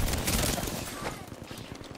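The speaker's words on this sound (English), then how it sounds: "Getting shot at." Apex Legends gunfire during a fight, a dense, noisy burst of rapid shots that fades slightly into quicker, lighter pops, with a voice talking over it.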